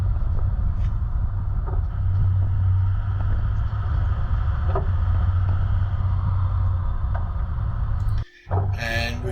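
A four-wheel drive vehicle climbs a winding mountain track in Victoria's High Country, its engine giving a steady, close, low rumble throughout, with a brief drop and a scrape near the end.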